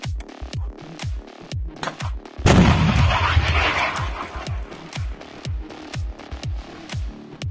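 A Stugna-P anti-tank missile launcher fires in a combat position near Izium: a loud, sustained roaring blast lasting a couple of seconds, surrounded by repeated sharp distant booms of artillery and gunfire.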